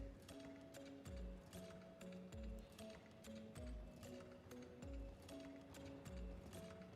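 A dressage horse in an extended canter during a FEI World Cup Grand Prix test at Neumünster, Germany, its hoofbeats thudding in a steady rolling rhythm about once a second over sustained background music.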